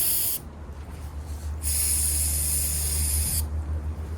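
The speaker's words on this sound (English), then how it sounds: "I think I have to go find some spray," Two loud bursts of ether starting fluid spraying close by on a John Deere RX75 riding mower in winter, the second longer, separated by a short pause over a low engine-like hum.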